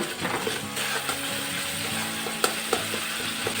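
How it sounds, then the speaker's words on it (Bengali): Spice masala with chili powder and a pinch of sugar frying in oil for a yardlong bean and potato curry, with a steady close sizzle broken by sharp spatula scrapes and clicks against the pan. "এখন মশলাটা খুব ভালোভাবে কষিয়ে নেব"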